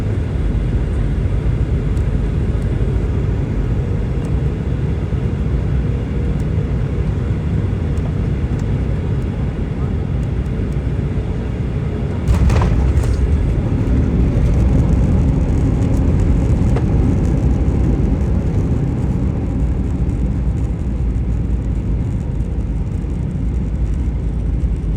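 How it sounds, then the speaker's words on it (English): Norwegian Airlines Boeing 737 landing into Oslo, a steady loud cabin roar of engines and airflow with a thud of touchdown midway followed by continued rumbling rollout. "Now it's time to check out the landing into Oslo."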